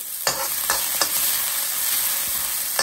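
Chopped capsicum sizzles steadily in a hot pan alongside finely chopped carrots, with a few sharp scrape-and-toss bursts from stirring over a continuous bright frying hiss; no talking.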